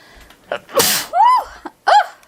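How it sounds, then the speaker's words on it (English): A single sharp sneeze, a breathy intake followed by a loud burst, close to the microphone, with a couple of small vocal sounds around it. "I'm about to sneeze"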